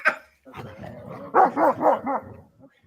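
Dogs bark close and loud in a quick run of four or five barks after a few softer yelps, with no talking.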